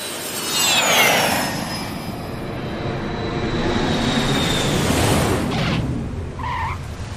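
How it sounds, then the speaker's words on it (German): A fixed-wing SWAT airplane takes off in a dramatized scene, a loud sustained engine roar with a rising whine that swells and sweeps past, ending in a brief tire-like squeal, no voices. "Please fasten your seatbelts. We are ready to take off."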